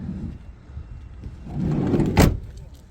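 A heavy van sliding door rumbles along its track, ending in a solid thud as it latches shut nearby.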